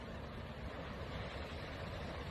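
Ocean waves wash over rocks beside a lighthouse walkway, a faint, steady, distant surf roar with no distinct breaks and no voices.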